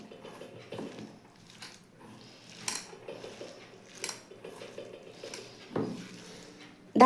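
Chopped mixed vegetables being hand-mixed with a little water in a bowl for pakora, with soft squelching and scattered clinks and taps against the bowl, quiet and close, coming in irregular bursts.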